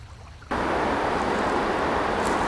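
A mountain waterfall near Lac d'Oô in the Pyrenees sets in abruptly as a loud, continuous rushing hiss after a quieter half-second, steady and close.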